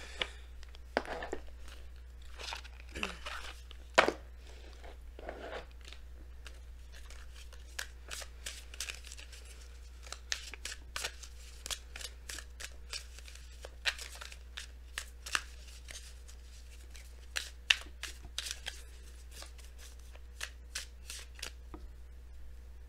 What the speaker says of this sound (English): we're going to go ahead and pull you guys your Messenger Oracle cards